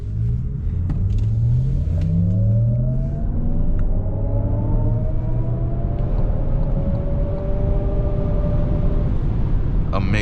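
A 2024 Cadillac Lyriq Sport 3 AWD electric SUV accelerating to merge onto a highway, with a steady road and motor rumble and rising whine tones heard from inside the cabin.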